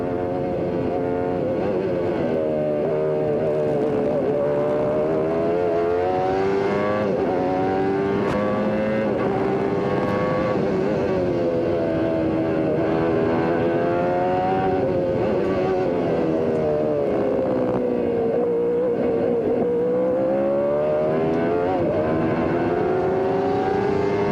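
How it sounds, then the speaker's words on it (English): Onboard audio from the 1994 Miller 200 IndyCar race at Mid-Ohio carries loud, continuous engine drone with rising and falling pitch as the car accelerates and brakes through the course, including the Honda engine, with no talk. "We're hearing the Honda. It fires like your passenger car that you drive on the street."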